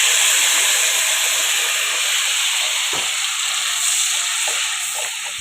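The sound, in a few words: onion, ginger, garlic paste frying in oil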